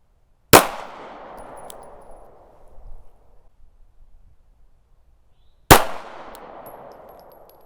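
Two sharp gunshots ring out about five seconds apart, each followed by a bright metallic clang and a long fading ring from steel targets, with quiet outdoor ambience between.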